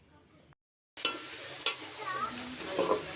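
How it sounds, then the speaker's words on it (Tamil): Tomatoes, with green chillies, being stirred and fried in a pan for chicken biryani, a soft sizzle with scraping stirs after a brief silent gap, at close range with no talk. "தக்காளி நல்லா வதங்கணும், அது வரைக்கும் நல்லா கிளறி விட்டுக்குங்க."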